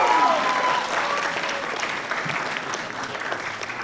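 Close, loud applause with cheering and a few whistles from an audience at a spoken-word event, tapering slightly but staying steady, with no talk over it.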